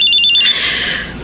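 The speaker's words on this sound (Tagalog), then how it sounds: "Cellphone ko." A cellphone ringtone chirps in a quick, rapid-fire tonal pattern, then swells into a brighter, sustained ring. It is loud and close, with no talking over it.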